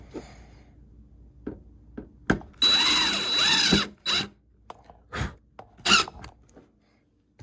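A power drill drives fasteners into a custom box downspout for a side offset, with short whirring bursts, one longer run near the start, and squeaks and clicks of metal between them.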